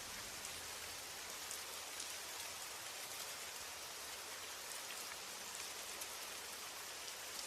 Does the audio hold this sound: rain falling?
yes